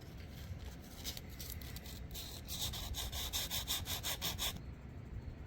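Sandpaper of 220 grit rubs back and forth over a repurposed Collins axe head being reshaped into a Viking-style axe, giving a steady close scraping with quicker, brighter strokes near the end and no talk.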